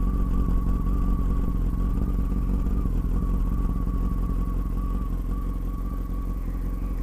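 A refurbished Honda Hornet 900 motorcycle idles steadily close by, with an even, continuous engine drone and a faint whine that holds throughout, and no voices.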